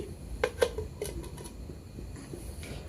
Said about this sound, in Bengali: ব্যাটারের থালাটি কড়াইয়ের মধ্যে বসিয়ে দিচ্ছি।